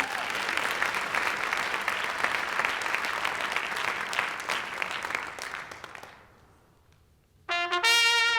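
An audience applauds warmly for the Owlettes singing trio, loud sustained clapping that fades out, followed by a burst of bright music.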